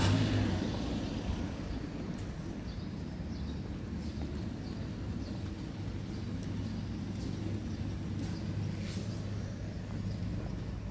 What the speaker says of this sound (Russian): Очень много машин, да?